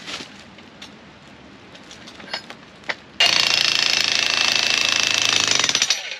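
A VEVOR electric demolition jackhammer pounds hard rock: after a few scattered clicks and knocks, it kicks in suddenly with a loud, rapid, continuous hammering close by that keeps going to the end.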